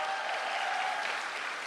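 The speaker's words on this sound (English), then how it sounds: "I'm sure they deserve a big round of applause." Audience at a school graduation day applauding, a steady distant wash of many hands clapping for the whole short stretch, fairly faint.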